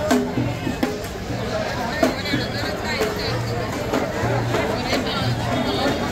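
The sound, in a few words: crowd of people at a temple fair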